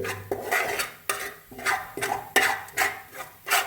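Spoon strokes scrape a pan where a small piece of cinnamon and fennel seeds are roasting, making about six rhythmic scraping sweeps with short gaps between them, close and clear.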